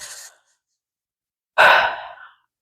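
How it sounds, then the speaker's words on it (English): Two heavy breaths close to a microphone: a brief exhale, a pause of over a second, then a louder, longer gust of breath that trails off, with no talking. "I'm sorry to keep breathing"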